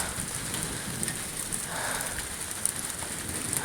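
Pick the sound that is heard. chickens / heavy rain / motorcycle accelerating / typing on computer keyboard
heavy rain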